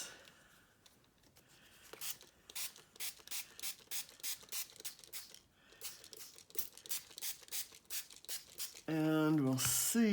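Repeated short spritzes of spray onto a mixed media art project, roughly a dozen quick bursts in an even rhythm, fairly close and clear, with a brief pause midway; a voice starts talking at the very end.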